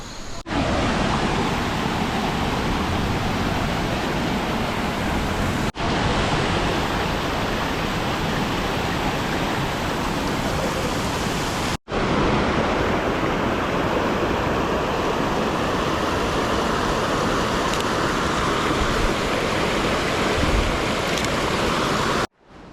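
A waterfall roars as a steady, dense, broadband rush of falling water, loud and close, continuous throughout with a couple of brief cuts and no talk.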